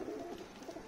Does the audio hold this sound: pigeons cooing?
yes